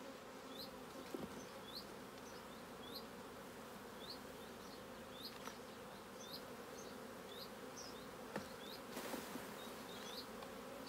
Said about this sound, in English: You've got to shake all the bees off.